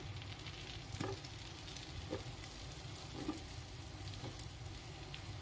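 Okra frying in melted butter for a masala gravy, a faint, even sizzle with a few soft clicks of stirring in the pan, close and steady with no talk.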